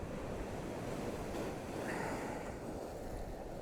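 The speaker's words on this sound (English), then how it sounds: "it's every 7th wave or 10th wave or something that really puts a load of water up here" Ocean waves surging onto a shore in a continuous broad wash of surf, with wind buffeting the microphone and no voices, moderately faint and steady throughout.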